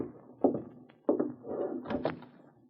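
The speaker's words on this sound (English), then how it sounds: "Let me open the door, ma'am." A door opens in an old western radio drama, with a latch click, a couple of wooden thunks and a creaking swing, heard close and clear without any talking.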